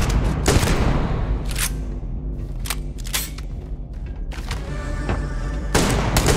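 Loud explosions and rapid gunfire from combat in the video game Starfield, with repeated sharp blasts and bursts over a dense, continuous rumble, with no talking.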